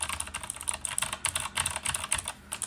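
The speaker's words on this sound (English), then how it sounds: "I can test the keyboard." Rapid, uneven clatter of keys on a computer keyboard during a Linux installation keyboard-layout test, bright clicks in quick bursts lasting a few seconds, close and alone with no talk.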